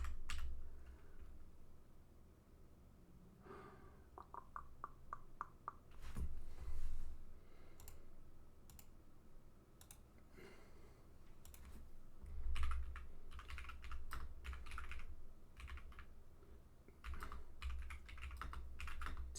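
Typing on a computer keyboard as a Linux terminal command is entered, with quiet irregular clusters of key clicks, some quick runs and pauses, close and soft, with no voices.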